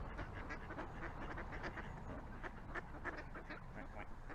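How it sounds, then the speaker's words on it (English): A group of ducks quacks near the water in a scattered, overlapping run of calls, fairly faint and continuous, as they paddle closer. "Hello ducks. Look at them all coming over."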